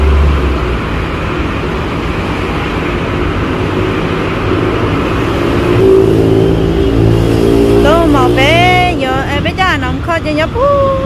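A car engine, shifted into gear, runs with a steady loud drone that rises in pitch as it revs. A voice speaks over it near the end.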